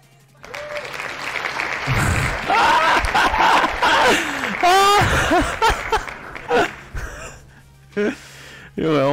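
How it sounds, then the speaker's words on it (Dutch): Applause breaks out after a prize wheel spin in a game stream, a steady clatter of clapping under an excited voice talking over it. "Jongen, allemaal mensen gaan klappen en zo op dit."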